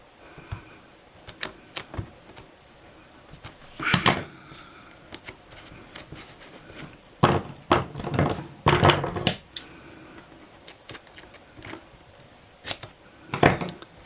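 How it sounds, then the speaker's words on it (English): Scissors cutting tape while an album is being taped, with irregular sharp snips and crinkly bursts, some in quick clusters, close up in a quiet room. "it might have been better with a smaller pair of scissors"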